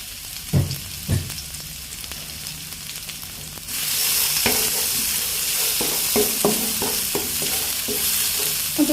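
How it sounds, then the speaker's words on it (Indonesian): A ground spice paste is sautéed in a hot wok, a steady loud sizzle with sharp scraping stirs of the spatula throughout. "Ini untuk bumbunya saya tumis yang tadi saya haluskan."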